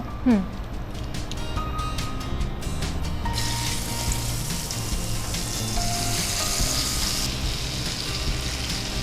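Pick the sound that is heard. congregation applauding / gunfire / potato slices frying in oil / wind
potato slices frying in oil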